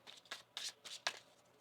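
A deck of tarot cards being shuffled in hand, with four quick riffling bursts spaced at an uneven rhythm, close and crisp, with no talking.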